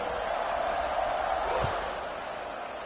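Steady roar of a big stadium crowd waiting for kickoff at a college football game, a dense, even wash of noise with a brief thump partway through.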